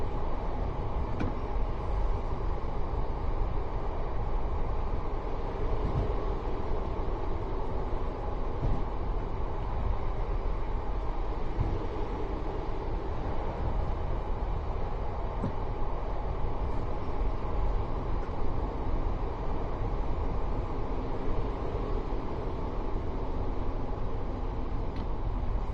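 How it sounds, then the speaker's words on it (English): Train in the Train Sim World 5 game on a Manchester Airport commuter route, slowing gently: a steady, continuous low rumble with an even drone of wheels and motor throughout, close and unbroken, no talk. "Just gently slowing down the train."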